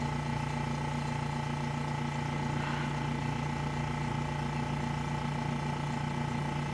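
A Specialty Coating Systems P6712 spin coater winds down to 1000 RPM, giving a steady, fairly quiet motor hum with constant tones and no break.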